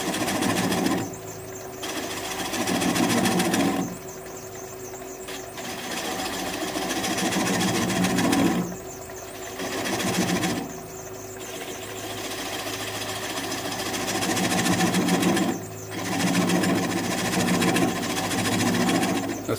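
A wood lathe turns a fruit bowl blank at about 400 rpm, a steady close motor hum with a rhythmic rumble, broken by recurring bursts of scraping as the tool cuts in and lifts off.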